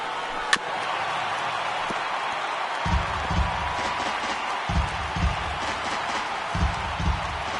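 A baseball stadium crowd of more than 27,000 rising to its feet with two out in the ninth inning, producing a steady broad roar of cheering, with rhythmic bursts of clapping and stomping surging through the noise.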